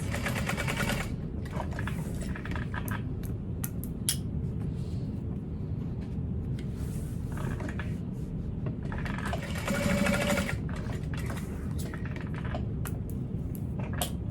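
A sewing machine stitches a basting seam to hold a fabric panel in place on a handbag, running steadily and close by for the whole stretch with no talking.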